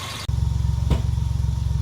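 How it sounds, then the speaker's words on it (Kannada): Maruti Omni engine fitted with a fuel energizer idles close by after a brief start, with a fast, even low putter, loud and steady, with no voices. "ಸಿರಟ್ಟಿ ಫ್ಯೂಯಲ್ ಎನರ್ಜೈಸರ್ ಹಾಕಿದ ಮೇಲೆ ಇಂಜಿನ್ ಸೌಂಡ್"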